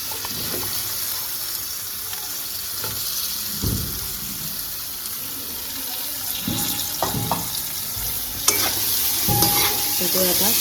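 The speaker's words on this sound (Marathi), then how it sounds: "असे आपण हे बटाटे कट केलेले होते तर तेलामध्ये टाकून द्यायचे." Cut potatoes frying in hot oil in a pan give a steady, close, dense sizzle throughout, with occasional scraping stirs and clinks breaking through the continuous hiss.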